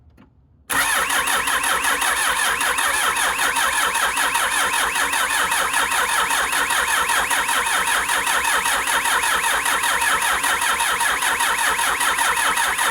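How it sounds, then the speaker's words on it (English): A 1995 Mitsubishi Delica L300 engine with a faulty fuel injector is cranked continuously after a brief quiet start, giving a loud, steady, fast-pulsing churn that never catches and runs to the end. "So we're gonna crank until we get fuel."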